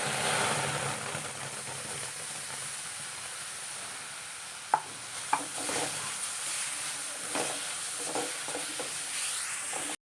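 Tomato and ground spice paste frying in a pan for dried prawn curry, a steady loud sizzle with a couple of sharp spoon knocks and stirring scrapes against the pan.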